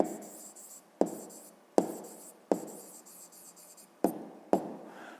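Pen scratching across paper in a math exercise on marking an obtuse angle C, six short strokes each starting with a sharp tap and trailing off, close and quiet.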